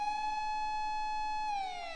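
A police car siren in the Japanese visual novel Fate/Stay Night, a steady electronic wail holding one pitch before sliding downward, loud and alone with no voices.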